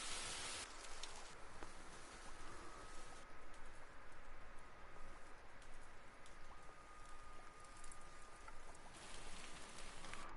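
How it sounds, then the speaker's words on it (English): Heavy splattering rain pours steadily on a hard surface, a dense constant hiss with no talk for about ten seconds. "Splatty rain."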